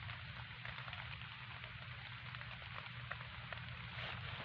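Rain falls outdoors at night as a faint, steady hiss with soft patter and no speech over it.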